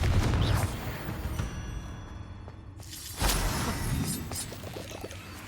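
Confringo blasting spells in Hogwarts Legacy, a castle-storming fight: heavy booming blasts with whooshing bursts, a loud impact near the middle followed by rumbling debris, layered over constant low game ambience.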